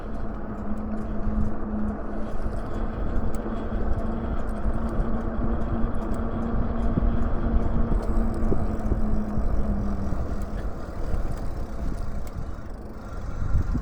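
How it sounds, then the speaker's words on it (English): A car engine drones close behind a moving e-bike, steady and fairly loud, with road and wind noise running the whole way through and a low hum that holds through most of the stretch. "Got a car following me."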